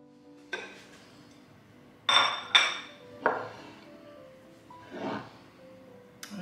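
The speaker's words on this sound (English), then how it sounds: "We're gonna cover it and let it steep for about 5 minutes." A pitcher of steeping corn silk tea made with boiling water gets covered, giving several separate clinks and knocks of a lid and dishes, sharp and close, spaced apart over quiet.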